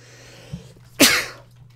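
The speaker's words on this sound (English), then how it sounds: "Sneeze, of course." A single sharp sneeze bursts out close and loud, preceded by a brief quick intake of breath, then fades into quiet.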